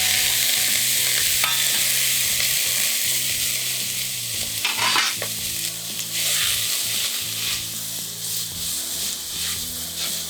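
Shrimp shells stir-fry hard in a hot pot for an Americaine sauce, giving a loud, dense, continuous sizzle. Repeated scraping and rattling strokes of stirring sit close up over it, and no voices are heard.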